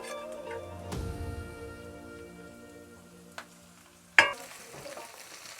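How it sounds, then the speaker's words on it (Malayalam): Beef fried in coconut oil in a Kerala-style ularthiyathu, with a steady close sizzle and sputter, a utensil stirring through it and two sharp clanks near the end; no one speaks. "ഈ വെളിച്ചെണ്ണയിൽ ഈ ബീഫ് ഒന്ന് നല്ല ഫ്രൈ ആയിട്ട് വരട്ടെ."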